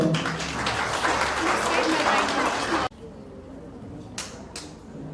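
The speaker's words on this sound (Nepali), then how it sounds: "ताली बजाऊ।" A burst of applause from a wedding crowd during the ring exchange, dense clapping for about three seconds before cutting off abruptly, followed by quieter room noise and a couple of sharp sounds.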